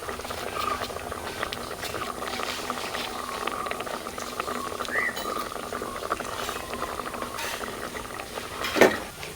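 Chakkuli kayihuli, a coconut-based curry with pieces of chakkuli and green chili, bubbling in a pot on a gas stove, a steady close boil with small pops and gurgles throughout and one louder bubble near the end.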